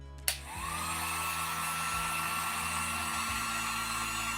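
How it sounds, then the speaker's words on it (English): An electric heat gun switches on with a click and then blows steadily with a constant whooshing fan hum and motor whine, close and fairly quiet, with no talk. "Now watch what happens when I turn this heat gun on."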